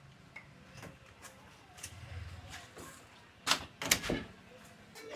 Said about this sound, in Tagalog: Sarado mo yung pinto